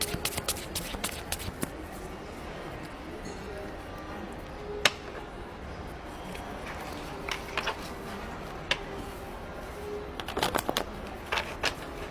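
Tarot cards shuffled for a reading, giving bursts of quick riffling and soft taps at the start and again near the end, fairly close and quiet, with sparse pauses between.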